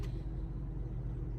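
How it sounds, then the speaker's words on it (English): Cars pass along a nearby road, a steady low rumble of engines and tyres that fills the whole short stretch with no voices over it. "I got cut off with all the cars"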